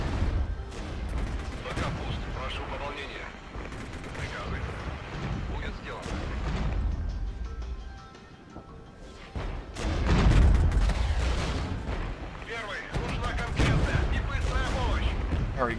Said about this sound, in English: Well, let's get those rockets out.